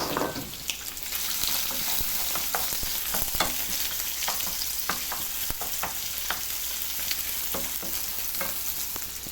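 Shrimps hit a hot pan with onion, garlic and zucchini and fry with a loud, dense, continuous sizzle, punctuated by sharp clicks and scrapes of stirring.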